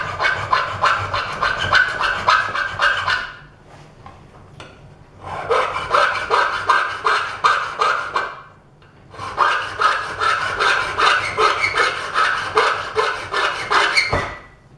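A hand file rasps across a soft silver bracelet in three long bursts of steady back-and-forth strokes, close and fairly loud, with short pauses between the bursts and no talking.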